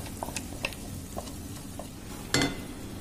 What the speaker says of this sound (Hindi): अब इसमें पकी हुई दाल हम डाल देंगे।